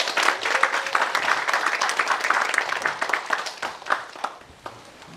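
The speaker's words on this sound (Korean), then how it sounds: "포럼을 여기 계신 모든 분들의 큰 박수로 시작하도록 하겠습니다" An audience at a forum marking ten years of ecological-culture village building claps steadily, a dense, moderately loud patter of many hands lasting throughout and thinning slightly toward the end.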